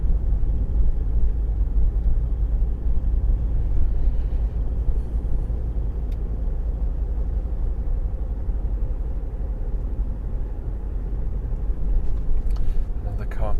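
An oncoming car passes on a narrow road near Kingsdown and Deal in Kent, a soft whoosh blending into the steady low rumble of the driving car's cabin, with no sharp peak.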